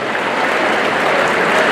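Dense, steady applause from a crowd at a bull-riding event in La Magdalena Petlacalco, Mexico City, a loud continuous wash of clapping with no gaps and no voices.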